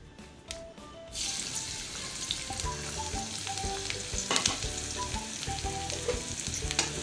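Garlic fries in a little hot oil, a loud, continuous sizzle that bursts in after a quiet second and keeps crackling, with occasional clinks of a stirring utensil and soft background music.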